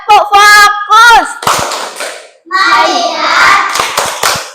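A class of fourth-grade children in a classroom does a rhythmic focus clap: a few sharp hand claps break up loud, sung or chanted group voices.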